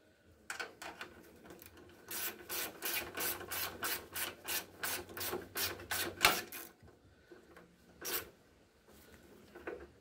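A bolt is tightened on the cooling tin of a VW Super Beetle engine, a rapid run of about a dozen close ratcheting clicks, then a pause and a few slower clicks.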